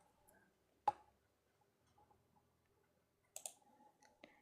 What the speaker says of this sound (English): It's just the mouse that I'm using right now.